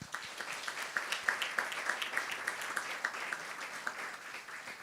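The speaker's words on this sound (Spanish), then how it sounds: "Un aplauso para ellos." An audience at a school conference session claps steadily for several seconds, with a dense, even wash of applause and distinct individual claps standing out throughout.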